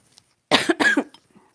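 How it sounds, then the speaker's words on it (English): A woman gives a morning cough, a couple of close, harsh coughing bursts in quick succession, against near silence. "coughing again. Morning cough."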